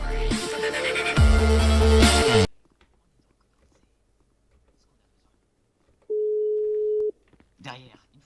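In the Yakuza video game, a single steady telephone tone lasts about a second. It follows a burst of game music and a stretch of near silence, and a brief faint noise comes after it.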